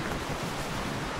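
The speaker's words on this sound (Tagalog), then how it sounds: "yung tunog ng falls." A distant waterfall roars as a steady broadband rush heard from a hiking trail, faint and continuous with no voices over it.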